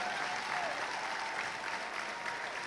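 An audience at a university honours convocation claps for honour students, dense steady applause filling the hall for a few seconds, fairly distant and even throughout.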